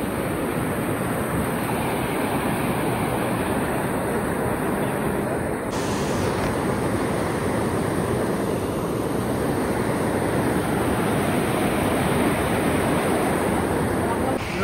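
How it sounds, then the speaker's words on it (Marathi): A river in Himachal Pradesh rushing under a bridge, a loud, continuous roar of flowing water heard up close, steady throughout with no pauses. "ही नदी आहे नदी।"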